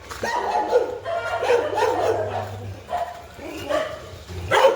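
Several street dogs bark in a loose group on an early-morning walk along a neighbourhood lane near a city gate, with irregular yaps and bow-wows overlapping and carrying at moderate distance.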